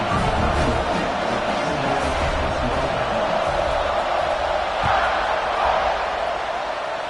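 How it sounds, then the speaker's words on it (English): Football stadium crowd roaring at kickoff after an LSU touchdown and extra point, a dense sustained wall of cheering and whooping that swells in the middle and stays loud throughout. "this crowd now ready to get behind them"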